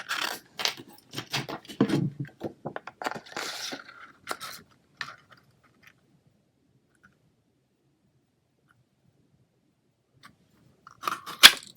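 Scissors or a paper trimmer cut excess card off a sheet stamped with dragonflies, a string of crisp crunchy snips and rustles up close in the first few seconds, then near silence before a brief clatter at the end.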